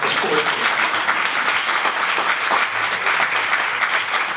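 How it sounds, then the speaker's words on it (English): An audience at an evening event in Whittier gives a round of applause: a steady, dense roar of many hands clapping at even loudness throughout, with no break. "Give her a round of applause."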